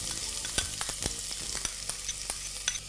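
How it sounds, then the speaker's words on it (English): Chopped red onions and dried red chilies sizzle steadily in a pan, with repeated sharp scrapes and clinks of a spoon stirring through the frying, close and fairly loud with no talking. "Let's stir this and cook this till the onions turn golden brown in color"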